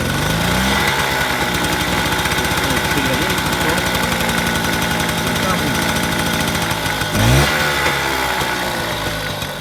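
Peugeot 103 MVL moped engine running close up, revving steadily with a rapid, buzzing two-stroke pulse and a brief louder surge near the end.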